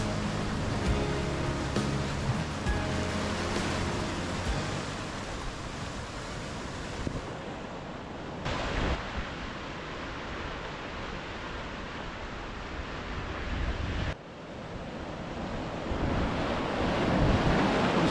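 Sea waves breaking along a black lava coastline, a steady broad roar of surf mixed with wind buffeting the microphone, continuous and close, with no voices.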